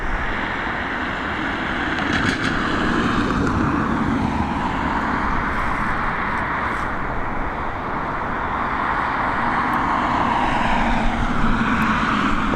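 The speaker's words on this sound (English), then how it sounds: "Air France and Aer Lingus there battling their way to the north runway." Air France and Aer Lingus airliners taxi toward the north runway at Dublin Airport, a continuous broad jet-engine roar and rumble heard from some distance, steady throughout with no speech.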